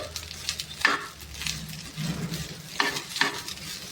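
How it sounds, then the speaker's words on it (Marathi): Cooked jeera rice stirred and mixed in a pan, Maharashtrian style: steady scraping and stirring strokes with soft sizzling beneath, several distinct spoon passes sounding close with no voice over them. "याला छानपैकी मिक्स करून घेऊ"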